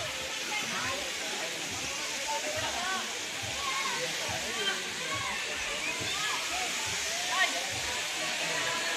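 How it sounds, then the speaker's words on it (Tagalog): A waterfall pours steadily with a broad, rushing hiss of flowing water, close and continuous, while people talk over it. "Ito na yung falls, oh."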